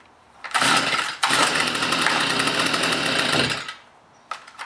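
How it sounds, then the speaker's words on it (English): A gas string trimmer running on 50:1 premixed small-engine fuel buzzes loudly and close, with a short drop near the start, steady high-revving drone, then cutting off and a brief restart burst at the end. "Now I'm just going to start up the trimmer now and do a bit of grass trimming."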